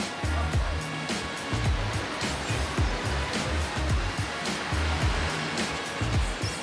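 Surf washing onto the beach at Tenby, Wales, a steady broadband roar with repeated low thumps of breaking water, continuous and fairly loud with no clear talk over it.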